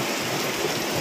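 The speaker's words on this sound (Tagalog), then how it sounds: "Lakas na ng ulan." Heavy rain from a super typhoon pours steadily, a dense, constant wash of noise with no breaks and no voices.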